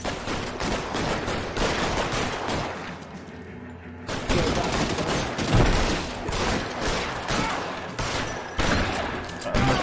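Rapid gunfire in the L.A. Noire video game, a dense, continuous fusillade of close shots for nearly ten seconds with only a brief lull partway through.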